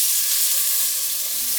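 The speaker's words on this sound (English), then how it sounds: "We wanna sear that top side for a little bit of color." Chicken thighs searing top side down in a hot pan for a casserole, a loud, steady broadband sizzle that runs unbroken and alone throughout.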